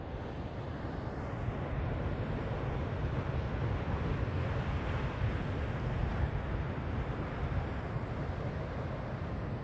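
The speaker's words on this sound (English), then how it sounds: "This is the ocean sound." Ocean at night gives off a steady, unbroken roar with a deep low rumble and broad wash, loud and continuous throughout with no voices.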